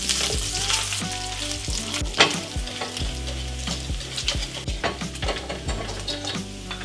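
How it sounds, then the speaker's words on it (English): Bacon sizzles and crisps in a hot pan, a dense steady crackle with sharp pops and occasional utensil clicks, close and loud with no talking. "To lower the heat on this bacon here. It's starting to crisp up too much."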